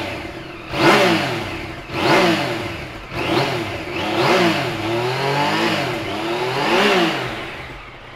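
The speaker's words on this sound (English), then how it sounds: "We'll give it a start for you. 850cc triple, make a great noise." A 2017 Yamaha Tracer 900 with its 850cc triple engine revs up repeatedly from idle, roughly six rising-and-falling throttle blips in a steady rhythm, loud and close with no talk.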